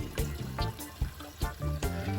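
Water runs from a kitchen tap into a pot meant for boiling carrots for a Jamaican strong back carrot juice, a steady close trickle and splash with soft knocks of the pot throughout.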